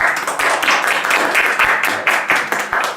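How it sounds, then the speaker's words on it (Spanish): Small audience clapping for a guest speaker, close and lively applause with individual hand claps distinct in an irregular patter, fairly loud and without speech over it. "le recibimos con un fuerte aplauso"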